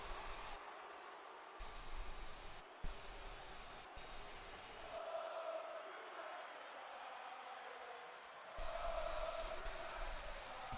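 Wrestling arena crowd in a WWE video game, a steady wash of distant cheering and crowd roar that swells in places, faint overall, with a low voice occasionally murmuring underneath.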